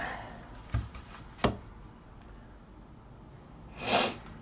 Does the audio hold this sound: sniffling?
yes